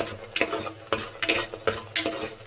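A spoon stirs thick country-chicken sambar masala in a pot, scraping in several bursts spaced roughly half a second apart, close and moderately loud, with a faint sizzle underneath and no talking.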